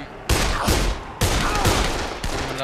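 Pistol fire in the zombie game Dead Island: three loud, sharp shots spaced apart, each with a booming tail, close and without talk.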